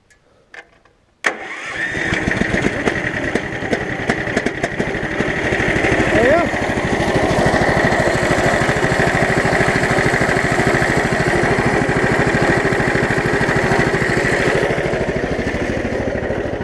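A new 420cc engine on a Case 700 series garden tractor cranks briefly, catches and settles into a steady, loud mid-pitched idle that carries on close by, running warm with the choke off.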